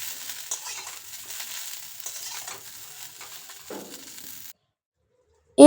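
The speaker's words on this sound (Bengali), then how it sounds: "রেখে ঢাকা দিয়ে হালকা ভেজে নেব, যাতে করে ব্রোকলিটা একটু মজে গিয়ে নরম হয়ে যায়" Broccoli frying gently in oil in a covered pan, a soft, muffled, steady hiss that stops abruptly, followed by a brief loud tonal burst at the very end.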